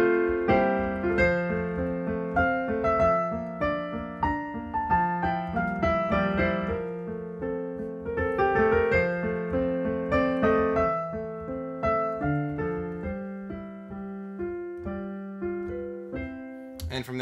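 Solo piano plays a section of Beethoven's Für Elise at a moderate pace, clear and close, with distinct notes and chords sounding alone throughout.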